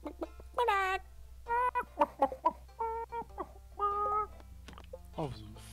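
A chicken in the farming game Stardew Valley clucks in a string of short, bright, close calls, separated by brief gaps, alone without talk over it.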